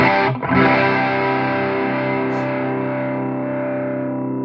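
An electric guitar chord through a maxed-out overdrive pedal rings out and sustains with a thick, buzzing, noisy high-gain tone, slowly decaying, with no voices.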